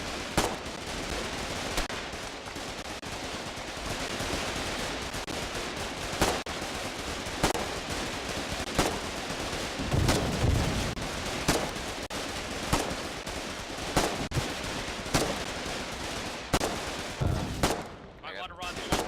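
Heavy machine gun fire from a pillbox in a battlefield video game: repeated bursts and sharp cracks of gunfire, loud and dense throughout, with distant explosions and voices beneath.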